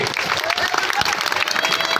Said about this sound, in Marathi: सर्वांनी एकदा अमिताभांच्यासाठी टाळ्या करा सर्वांनी